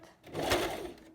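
A sewing machine stitches forward along a neckline facing in a brief close burst of steady whirring that swells and fades within about a second, with no talk over it.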